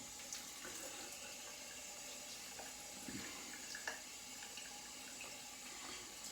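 Tap water runs steadily into a sink for a rinse after a shave with a Moritaka Hamono 240mm gyuto knife, a constant watery hiss with a few small splashes and clinks, close and moderately quiet.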